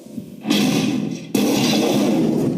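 Two heavy, dense impact bursts hit one after another, each leaving a loud rumbling wash behind it, layered crash effects for a King Kong throw impact.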